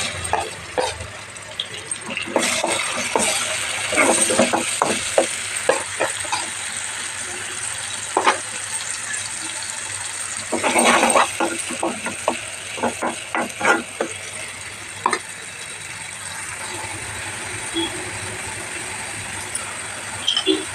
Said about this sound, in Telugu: నూనె బాగా వేడైన తర్వాత ఉల్లిపాయలు పచ్చిమిర్చి పేస్ట్ వేస్తున్నాను